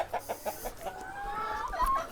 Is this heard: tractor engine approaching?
no